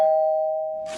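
A single doorbell chime rings out in a vintage doo-wop rhythm-and-blues recording, one clear sustained tone slowly fading before a burst of noise.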